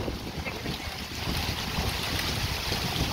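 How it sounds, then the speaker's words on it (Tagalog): Strong wind and rain outdoors in Budapest, Hungary: a low, steady rushing buffet of gusting air and wet hiss, faint and even, with no talking. "So, it's raining."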